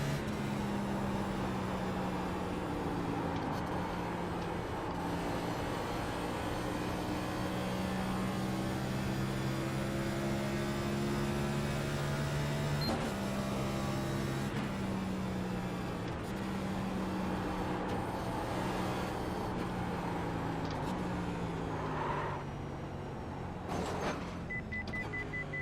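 A NASCAR Cup stock car engine at Nashville Superspeedway holds a steady, muffled drone, its pitch sliding down in stages as the car slows onto pit road.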